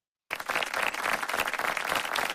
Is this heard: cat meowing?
no